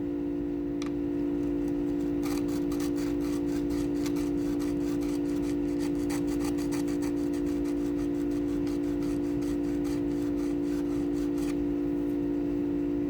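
A file rasps steadily across the frets of a Harley guitar neck, crowning them in a regular back-and-forth rhythm of scrapes, close up over a loud constant electrical hum.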